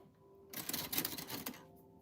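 Rapid keystrokes on a vintage typewriter, a clattering burst of about a dozen crisp mechanical clicks lasting roughly a second, close and fairly quiet against a faint steady hum.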